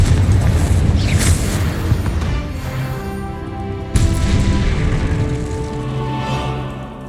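A Confringo fire spell explodes in the game Hogwarts Legacy. A heavy boom opens the clip and a second blast hits midway, and a sustained tonal rumble and game music carry on between and after them.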